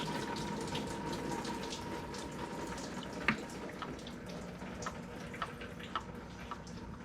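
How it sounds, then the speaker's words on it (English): Coolant draining from a Chevy Cruze 1.8L Ecotec engine during an oil cooler gasket job, a steady low trickle and splatter with a few brief clinks, moderately close and alone without talk. "Yep, there goes the coolant."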